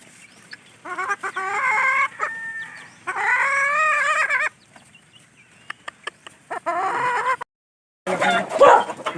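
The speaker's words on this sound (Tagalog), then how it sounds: "Anim ang tandang, isang inahin." A rooster crows loudly in several long, wavering calls with short pauses between them, close by, with a burst of clucking and farmyard noise at the end.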